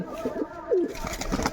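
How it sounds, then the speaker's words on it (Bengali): A ghughu dove among pet pigeons gives one distinct, fairly close coo, with a few fainter coos around it over a soft background murmur. "ঘুঘু পাখি উঠছে"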